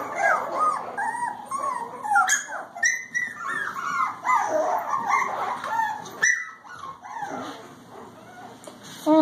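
A week-old purebred male Bichon puppy whimpers and yips in a run of high, thin cries and short squeaks, close and fairly loud, with brief pauses between bursts.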